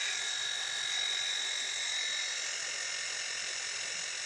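A Wahl KMSS dog grooming clipper runs continuously at close range with a steady high-pitched electric buzz and whine, holding at the same level without pauses.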